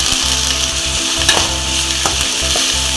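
Shallots and slit green chilies sauté in oil for an egg masala gravy, a dense steady sizzle close by with soft scraping stirs running through it.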